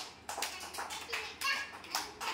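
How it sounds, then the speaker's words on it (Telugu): Children at an anganwadi clap in several quick bursts of sharp, bright claps, fairly close and moderately loud, with faint voices in between. "లైన్కి క్లాప్స్ కొట్టండి బాగా"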